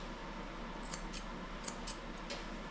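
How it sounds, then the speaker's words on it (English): Curved grooming scissors snip through a Maltese-Poodle puppy's beard, a few soft, quick clicks standing out over a steady low background hum. "I'm taking my curved scissors and making his beard nice and round."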